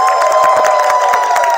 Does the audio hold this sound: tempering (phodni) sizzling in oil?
no